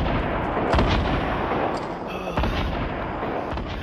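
RPG rocket explosions in a shooting video game, heard as dense, loud, continuous booming blasts with several sharper cracks and no voices.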